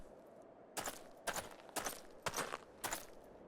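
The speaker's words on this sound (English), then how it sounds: "I thought I heard the terrible din of cannons being fired" Cannon fire in Final Fantasy XIV: five sharp, evenly spaced booming blasts ring out one after another, fairly faint and distant over a low background hush.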